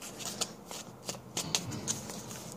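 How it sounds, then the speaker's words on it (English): Tarot cards are riffled and shuffled in a quiet room, a series of crisp ruffling bursts and soft slaps close to the listener, with no talking. "I feel like giving it one more shuffle."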